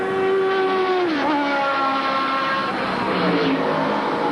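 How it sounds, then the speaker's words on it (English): A loud, raucous Cosworth V8 race car engine screams at high revs during a 1983 Group A sports car race at Amaroo, its pitch sliding down as it passes, then holding a steady, harsh drone. "that raucous, almost painful sound of the Cosworth V8 revving away"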